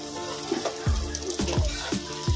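Chopped garlic fries in hot oil for restaurant-style mixed fried rice, a steady sizzle broken by several soft knocks and scrapes of stirring, close by and without speech.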